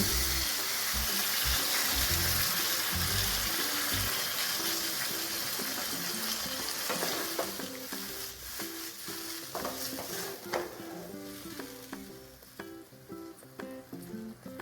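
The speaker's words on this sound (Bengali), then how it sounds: "পরিমাণ মতন জল দিয়ে দেব।" Water pours into a hot cooking pan for an egg and cauliflower curry, hissing and gushing loudly at first, then settling into a quieter bubbling sizzle.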